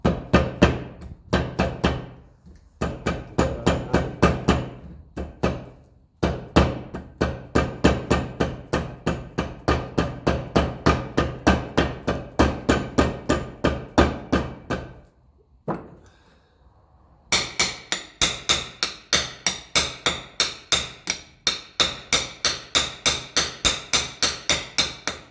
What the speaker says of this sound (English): put it on timber. Tap it back down and clean up that shaft a bit